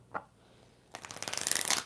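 After a single soft tap, a deck of tarot cards is riffle-shuffled close up, a rapid flurry of crisp flapping that builds and ends abruptly.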